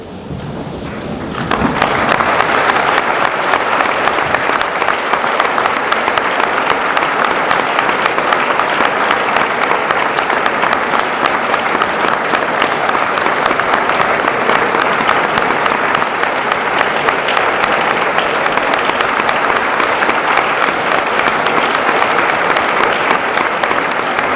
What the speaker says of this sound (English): May I kindly ask you to stand and give a round of applause to Mr. Jayasundara.